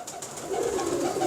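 Pigeons coo softly in a keeper's loft, a low, steady murmur of throaty calls running through the short stretch with no voices over it.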